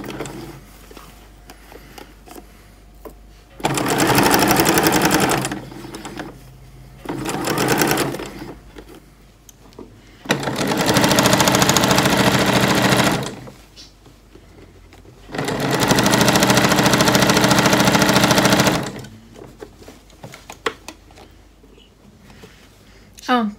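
A sewing machine stitches a bucket hat in three long, steady runs of close mechanical whirring, with quiet gaps between them where people talk.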